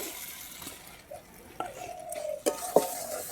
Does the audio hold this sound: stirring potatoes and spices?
yes